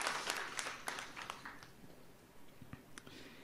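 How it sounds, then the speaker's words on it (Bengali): An audience applauds a leader at the opening ceremony of a 2018 green learning event. The clapping is faint and scattered, with brief claps that thin out over a few seconds. "আমার একটা ফরমান ভাইয়ের লিডারশিপের জন্য একটা হাততালি দিব,"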